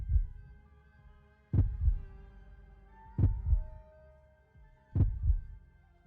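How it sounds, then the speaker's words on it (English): A slow, steady heartbeat thumps in a close, low double pulse, repeating three times at even intervals over a faint electronic hum with soft tonal readout beeps. "Almost like a heartbeat."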